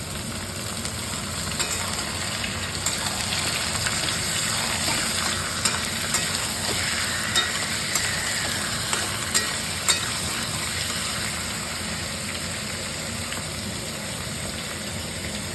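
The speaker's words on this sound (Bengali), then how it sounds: "আমি এর মধ্যে এখন 1 কেজি করে মাংস ছেড়ে দেবো। এটা পাঁঠার মাংস" Cut goat meat fries in a pot: a constant broad hiss of frying with a few faint clicks of stirring, steady and close, no voices.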